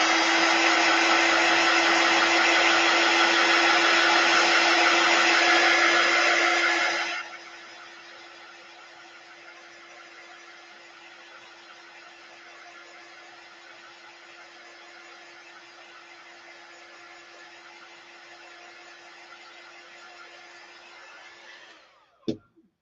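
A heat tool blows steadily to dry watercolor paint on ChalkSuede card, loud and continuous for about seven seconds, then drops to a faint steady hum with a small bump near the end.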